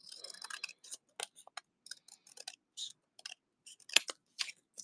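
Scissors snip through paper in a quiet craft setting, giving a string of short crisp cuts at an uneven pace with small rustles between them.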